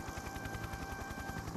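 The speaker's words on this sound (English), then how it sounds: "Just then, Harold the helicopter arrived." Helicopter arriving in a Thomas & Friends animated episode: a fast, steady rotor chop with a whining tone, fairly faint and brief, with no voices.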